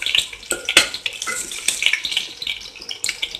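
Whole spices, dried red chillies, green chilli and ginger fry in oil for a pressure-cooker chicken gravy, with a crisp sizzle under repeated sharp clinks and scrapes of a spoon against the pan, close and fairly loud.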